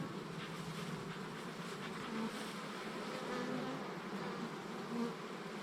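Agitated honey bees swarming after burr comb is torn in a garden hive in late August, a dense continuous buzzing hum close by with no voices.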